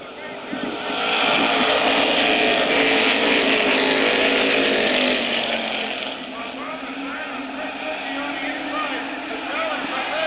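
Race cars roar around the oval at Airborne Raceway in a 1992 weekly event, two cars side by side fighting for the lead. A loud, sustained engine drone swells and holds, then eases slightly, with a commentator talking over it.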